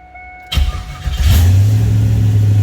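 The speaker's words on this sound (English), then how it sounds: "Car starts right up." A car engine starts after a quiet pause: a short cranking burst, then it catches and rises into a loud, steady, close idle that continues to the end, with no talking.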